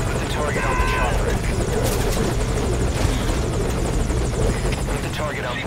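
A loud, continuous helicopter rotor roar from Metal Gear Solid V: Ground Zeroes runs throughout, with voices speaking beneath the engine noise.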